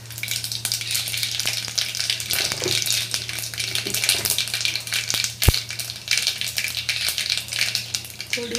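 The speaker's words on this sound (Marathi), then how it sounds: "जिरे आणि मोहरी कढीपत्त्याची फोडणी देऊया।" Cumin, mustard seeds and curry leaves sizzle in hot oil for a sambar tempering, a continuous close crackling hiss with stirring and one sharp metallic clink midway.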